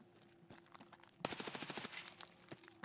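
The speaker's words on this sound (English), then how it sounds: "Oh, good shooting, Sai." Gunfire in the video game Escape from Tarkov Arena: a few isolated shots, then a rapid automatic burst of about a dozen rounds, then scattered single shots, all faint and with no talking.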